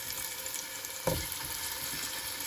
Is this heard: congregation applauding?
no